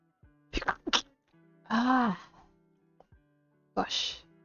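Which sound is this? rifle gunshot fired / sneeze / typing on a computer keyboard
sneeze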